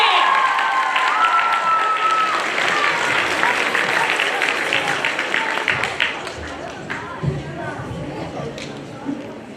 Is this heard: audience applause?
yes